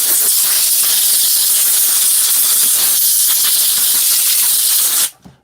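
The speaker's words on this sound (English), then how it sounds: "Parkside call it a silent compressor, but it's not silent," A Parkside silent air compressor runs as a loud, steady, hissing noise close to the mic, then cuts off abruptly near the end.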